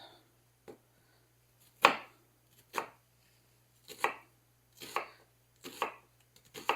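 Knife chopping onions and potatoes on a cutting board, single sharp thunks spaced about a second apart, close and clear against near silence.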